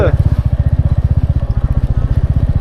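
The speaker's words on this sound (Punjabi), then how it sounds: "ਮੇਰਾ ਮੋਟਰਸਾਈਕਲ ਕਹਿੰਦਾ ਮੈਂ ਮੈਂ ਕੱਲਾ ਕਿਉਂ ਖੜਕਾਂ" Motorcycle engine on a stony mountain road, a loud, close, rapid rhythmic thumping throughout.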